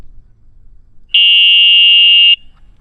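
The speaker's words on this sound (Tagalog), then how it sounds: "I-trigger mo yung alarm dito. Anti-theft no?" A loud, piercing electronic beep from a bicycle's anti-theft alarm sounds once, holding a steady high tone for just over a second before cutting off abruptly.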